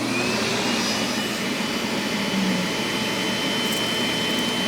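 A Bissell Little Green multi-purpose carpet cleaner suctions juice from carpet with a loud, steady, close-up vacuum roar that holds constant from start to finish.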